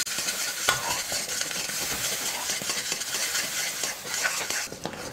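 A spoon stirs and scrapes Mysore Pak mixture in a pan with freshly added oil. It gives a steady, close sizzle with continuous metallic scraping and occasional clinks, and there is no speech.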